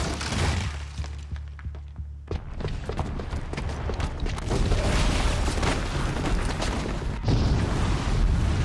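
A bomb booby trap goes off in Horizon Zero Dawn, a sudden heavy boom followed by sustained crashing, rumbling debris and shattering clutter that stays loud to the end.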